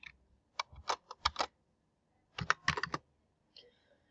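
Keys tapped on a computer keyboard while a financial backing form is filled in, heard as short bursts of close, crisp clicks, a quick run of presses, then a pause and another cluster of taps.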